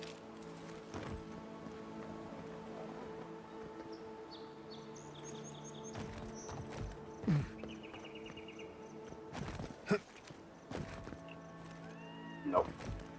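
A cat-like bird call in the fantasy video game Avowed, with several short mewing chirps and rising whistled cries scattered over a steady ambient hum, plus occasional sharp clicks and thuds.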